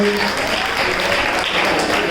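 Audience applause at a children's poetry recital, a dense, loud burst of clapping filling the whole moment, steady and close, without any voices over it.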